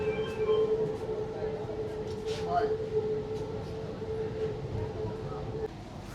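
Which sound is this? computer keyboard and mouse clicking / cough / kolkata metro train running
kolkata metro train running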